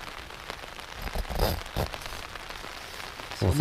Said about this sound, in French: Écoutez le bruit de la pluie, parce qu'il pleut au Groenland.